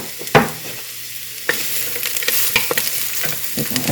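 Half a chopped onion hits a hot pan with a sharp thump and then sizzles steadily and loudly. Stirring clatters close by as the onion fries, with no voices.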